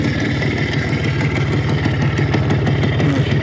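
A Minsk 3.112.12 motorcycle engine runs steadily at idle nearby, a loud, even low-pitched thrum with rapid regular firing pulses throughout and no talk over it.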